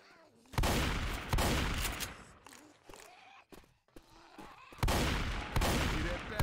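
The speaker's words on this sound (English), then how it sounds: "stop shooting me" Gunfire rips through an online shooter video game in several loud bursts, with heavy volleys near the start and again toward the end and quieter scattered shots between, along with faint voices.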